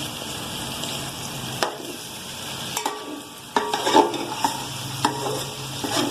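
Half-cooked chicken for macaroni sizzles steadily in a pan while a utensil stirs it, adding intermittent scraping clatters and bumps over the constant frying hiss.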